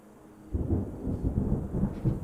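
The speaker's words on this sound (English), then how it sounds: "We're getting rain." Rain and rolling thunder in the video game Terra Nil, a low continuous rumble that swells in several waves over steady rainfall, with no voices.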